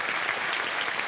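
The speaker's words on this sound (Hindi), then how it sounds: "ताली बज जाए इनके लिए।" A brief, dense burst of audience clapping for a quiz winner at a live show, steady and fairly loud with no voices.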